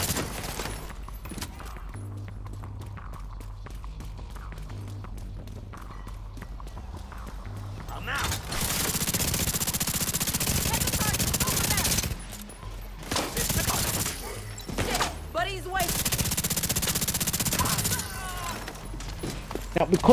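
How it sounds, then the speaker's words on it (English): Rapid Chameleon rifle gunfire in the video game The Division 2 during an invaded mission, long dense bursts of automatic fire broken by brief pauses, loud and close, with a person talking during quieter stretches. "the Chameleon hits like an SMG and assault rifle in one hit shred"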